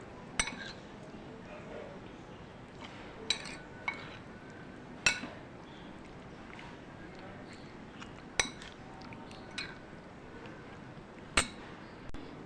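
A spoon clinks against a bowl while dahi boondi chaat with white cumin is stirred together, giving irregular sharp metallic taps spaced a second or two apart over quiet background noise.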